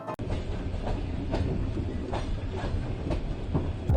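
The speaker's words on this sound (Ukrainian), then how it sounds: "Ось так виглядають типові поїздки приміськими електропоїздами." A suburban electric train runs steadily, its dense rumble and rhythmic clickety-clack of wheels over rail joints continuous and close, with no voices.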